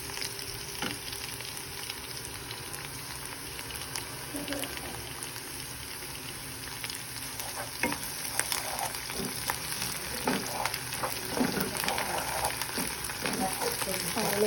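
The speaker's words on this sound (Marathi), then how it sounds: "आलं लसूण छान मिक्स करून घ्यायचं" Ginger garlic paste frying in a pan for a coriander-seed vegetable dish, with a steady sizzle that grows busier and louder as stirring scrapes and taps the pan, close up.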